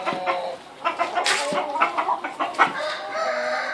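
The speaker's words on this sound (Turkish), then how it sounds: "Güreşteki horozumuz." Chickens cluck and a rooster crows nearby in a village coop, with overlapping bird calls in short bursts throughout.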